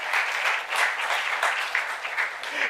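A church youth congregation applauds during a sermon, clapping in uneven swells that rise and dip in loudness without pause, with no voices on top.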